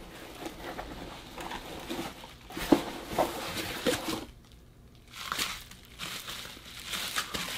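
Black packing paper crinkles and rustles as it is handled during the unboxing of a horror mystery box, coming in several bursts of crackling with quieter pauses between them, close to the microphone.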